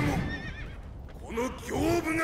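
A horse whinnies in the video game Sekiro: Shadows Die Twice, a loud rising and falling neigh near the start and another later, with someone talking between them.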